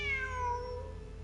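A single cat meow in the Genshin Impact video game, a short, fairly quiet drawn-out call heard on its own.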